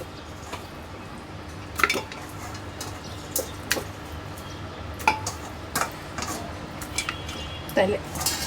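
Metal pots and utensils clink and clatter in a kitchen as meat bones are loaded into a pressure cooker, with scattered sharp knocks over a steady background hum.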